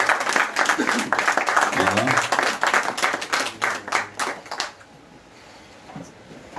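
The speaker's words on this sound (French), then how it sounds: "qu'on vous applaudisse aussi." An audience applauds women standing up at a New Year's greetings gathering for the president of the URD party, with a dense, steady clatter of clapping lasting several seconds before dying away, while a voice talks over it.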